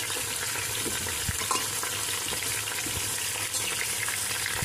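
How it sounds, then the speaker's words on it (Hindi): Jackfruit pieces frying in hot oil for a kathal sabzi, a continuous hissing sizzle with faint stirring scrapes, steady and close with no talking. "कटहल को फ्राई करेंगे हम"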